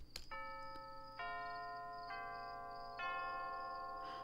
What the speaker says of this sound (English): The fancy chimes ring softly from inside.